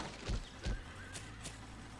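A horse in Way of the Samurai 4 gives two short loud snorting bursts up close, followed by softer hoof clops and a faint neigh.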